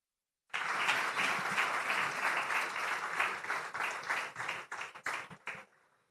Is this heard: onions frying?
no